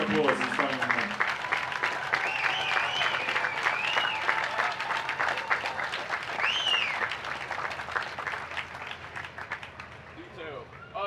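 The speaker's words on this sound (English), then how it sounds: "give them a big round of applause" Steady applause from a crowd at the Maine Lobster Festival Sea Goddess coronation, honoring the escorts, continuous and fairly loud for most of the stretch, with some voices and whistle-like tones carried over it before fading near the end.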